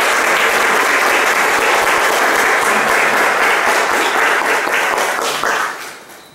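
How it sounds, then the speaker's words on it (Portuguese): Congregation at a church Mass applauding an altar server, steady dense clapping filling the room at full volume, then tapering off quickly near the end. "com uma salva de palmas."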